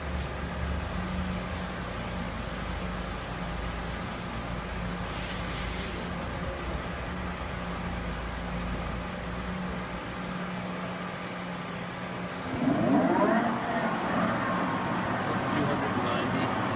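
A Chevalier FCL-32160A CNC flat bed combination lathe spindle runs in its high range, giving a steady mechanical hum with a faint whine. Something rises and shifts briefly near the end.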